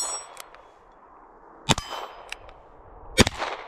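Two sharp metallic rings from a steel target struck by shots from a 1953 Ruger Single Six revolver, a quiet background between them and a few faint ticks, heard outdoors at a distance.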